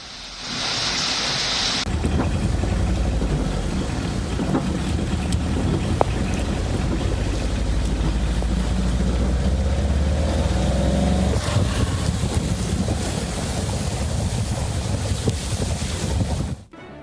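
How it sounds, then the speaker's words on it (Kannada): Heavy rain pours down in Anekal, Bengaluru, a loud, dense, unbroken roar that lasts the whole stretch and cuts off abruptly at the end. "ಇನ್ನು ಆನೇಕಲ್ನಲ್ಲಿ ಭಾರಿ ಮಳೆ ಆಗ್ತಾ ಇದೆ"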